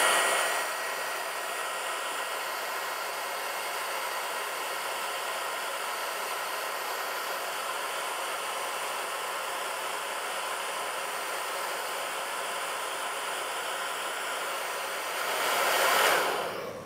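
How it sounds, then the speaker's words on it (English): A hair dryer blows steadily on scratched paint on a BMW iX electric SUV, a loud continuous hiss of air that holds evenly for the whole stretch, swelling briefly near the end before cutting off. "and then the hairdryer action."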